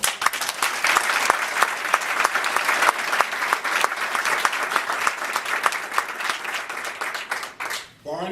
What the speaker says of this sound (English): I think they both deserve a hand of applause